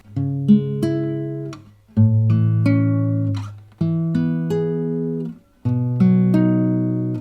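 Four sustained chords of a I–vi–iii–vii progression strummed one after another on a virtual guitar instrument, each ringing out and fading slowly before the next, guitar alone.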